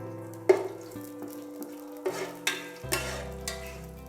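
Fried onions drop into a hot pot with bay leaves and cinnamon, giving a few quick thuds and stirring scrapes over a low sizzle, close and fairly quiet.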